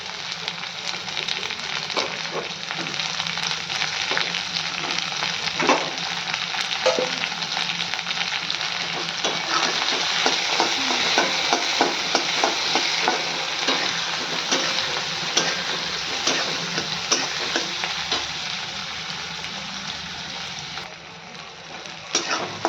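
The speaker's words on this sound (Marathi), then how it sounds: "टोमॅटो घालून घेऊयात आणि टोमॅटो ही कांद्यासोबत व्यवस्थित भाजून घेऊयात" Tomatoes fry with onions in a pan for masoor dal, a loud continuous sizzle close up, with repeated stirring scrapes and taps running through it.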